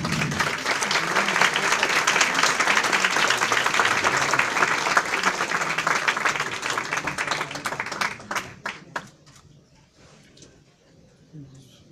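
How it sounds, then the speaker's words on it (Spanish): An audience applauds at an award ceremony for a women's organisation's board, with full, loud clapping that thins into scattered claps and fades out near the end. "Les damos nuevamente un fuerte aplauso."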